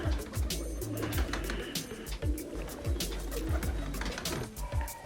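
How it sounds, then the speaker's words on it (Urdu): Kamanger pigeons, a pink-eyed breed from Kashmir, coo in a low, repeated rhythm close by, layered with steady background noise and other bird sounds. "یہ بھی گلابی آئی کبوتر ہے"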